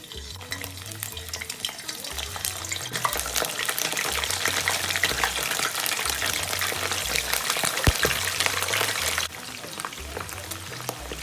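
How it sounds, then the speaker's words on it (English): Chicken pieces for a stew fry in hot oil, a dense, steady crackling sizzle that holds for several seconds and then eases slightly. Faint low background music plays under it. "I'm going to go ahead and fry it until it's nice and golden brown"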